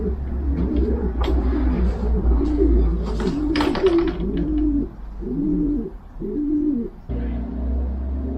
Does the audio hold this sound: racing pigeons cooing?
yes